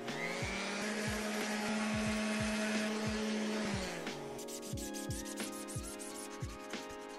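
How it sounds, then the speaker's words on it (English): A 3D-printed Lightyear laser blade part is hand-sanded with a finger in a series of evenly spaced rubbing strokes. A steady motor hum runs underneath for the first half, then fades. "I'm just going to go ahead with my finger and sand this part right here"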